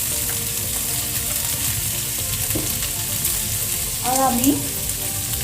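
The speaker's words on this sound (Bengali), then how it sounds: "পেঁয়াজটা ভাজা হয়ে গেছে। এখন যে মাংসটা আমি সেদ্ধ করে নিয়েছি প্রথমে মাংসটাকে দিয়ে দিচ্ছি।" Pre-boiled meat dropping into a pan of fried onions, with a steady, even sizzle throughout and a brief louder spatter and stirring clatter near the end, under a few quiet words of talk.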